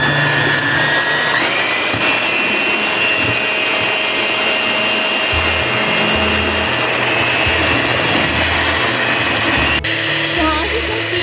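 An electric mixer beats almond coconut cake batter at low-medium speed, a steady loud whirring drone with a shift in pitch partway through, running continuously for about eleven seconds.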